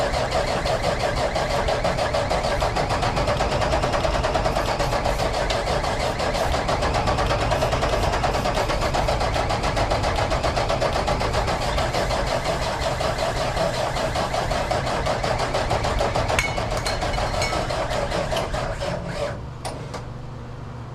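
An old Mack R Model truck diesel engine cranks on ether, a loud continuous churning drone that holds steady for about twenty seconds before easing off near the end.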